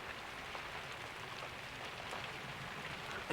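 Rain dripping and pattering into a leaking shed, a steady soft hiss of drops at close range with no talking.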